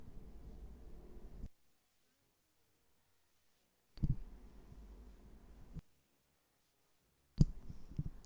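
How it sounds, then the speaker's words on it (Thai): The on/off slide switch of a Sennheiser E835S dynamic microphone is worked repeatedly, so faint room noise cuts out abruptly and returns with soft clicks at each switch. "ผมจะเลื่อนปิด"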